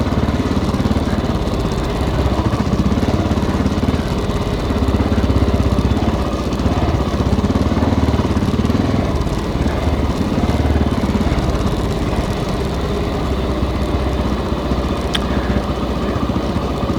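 A 1995 Honda XR600R motorcycle ridden near Foresthill, its engine droning loud and steady from start to finish, with the rush of wind and road mixed in.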